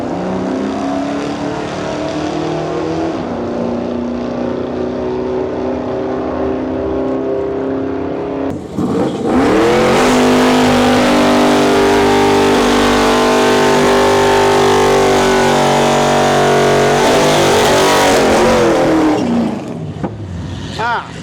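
Fox body Mustang launching on a drag strip at Santa Pod's street weekend, its loud engine roaring steadily close by and then surging harder through the run, with crowd or commentator talk mixed in.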